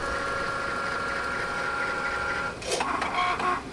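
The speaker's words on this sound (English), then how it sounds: "I'm going to let Cricut do its thing." A Cricut cutting machine cuts removable vinyl with pressure set to more, giving a steady mechanical hum and whir that shifts to a busier, rattling motor pattern near the end, close and continuous with no talking.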